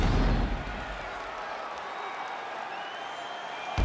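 Crowd applause after a round in the UFC 5 fighting video game, a dense, moderately loud wash of clapping that swells briefly at the start and then holds evenly to the end.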